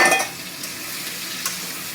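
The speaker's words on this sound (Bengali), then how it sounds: "আলুগুলো দিয়ে এবারে নাড়বো।" Potatoes frying in hot oil with ginger for a potato curry, a soft steady sizzle with a few scraping stirs near the start and a light knock midway.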